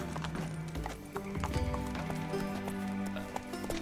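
A horse in The Witcher 3: Wild Hunt gallops with quick, rhythmic hoofbeats, close and steady, with a short whinny and background game ambience.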